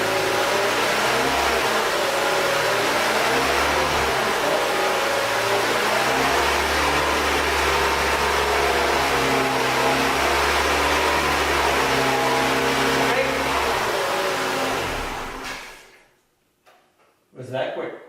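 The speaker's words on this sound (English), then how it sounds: "Rev it to 2000." A car engine is held at raised revs around 2000 rpm during ignition testing, a steady loud droning hum that holds for about fifteen seconds and then drops away, with speech heard over it.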